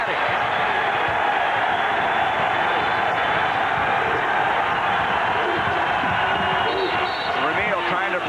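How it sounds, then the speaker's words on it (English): A crowd at a 1990 college basketball game between Ohio State and Michigan roars loudly and steadily after a three-pointer, dense and sustained throughout with some voices rising near the end. "The crowd is absolutely ecstatic."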